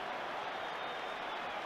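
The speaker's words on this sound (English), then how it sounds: "So there's the applause around the stadium." Steady applause from a football stadium crowd after the final whistle of the 1994 Coca-Cola Cup Final between Raith Rovers and Celtic, heard as a dense, continuous wash of clapping from far off.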